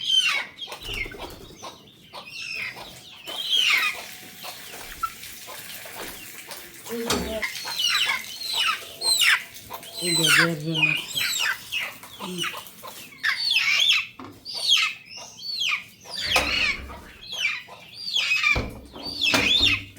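Desi chickens clucking and squawking repeatedly at close range, with a brief flutter of wings and some background voices.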